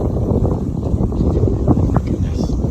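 A boat's engine rumbles nearby as it docks at Waianae Pier, West Oahu, Hawaii, under heavy wind buffeting the microphone, steady and loud throughout.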